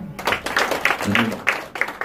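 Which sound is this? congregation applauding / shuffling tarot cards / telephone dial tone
congregation applauding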